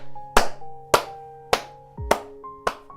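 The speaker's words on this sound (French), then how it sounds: "Non mais j'applaudis." One person claps five times in slow, evenly spaced sharp claps, close and distinct against a quiet background.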